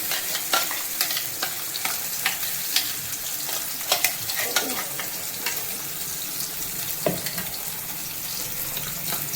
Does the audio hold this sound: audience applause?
no